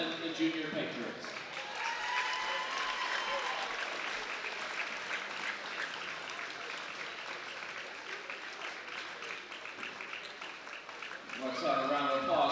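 Crowd in a high school gym applauds the junior wrestlers at a Parkersburg South versus John Marshall wrestling meet, a steady wash of clapping from start to finish with a few voices mixed in underneath.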